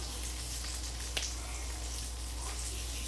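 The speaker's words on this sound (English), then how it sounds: "that sizzling noise is in the background, that's our sausage" A soft, steady sizzle of sausage frying in a pan hisses throughout, with a low hum beneath and one brief click.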